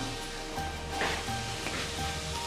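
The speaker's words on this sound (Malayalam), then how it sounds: "ഇപ്പോൾ അതാ നമ്മുടെ ഉള്ളിയും പച്ചമുളകും ഇഞ്ചിയും വെളുത്തുള്ളിയും ഒക്കെ ഒരുവിധം നന്നായിട്ട് വഴന്ന് വന്നിട്ടുണ്ട്" Onion, green chili, ginger and garlic sauté in a pan for beef mappas, a steady close sizzle and crackle with no talking.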